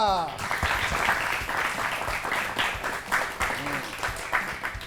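Applause for a correct answer in a children's classroom quiz show, a steady patter of clapping running through the whole stretch, with a voice briefly heard at the start.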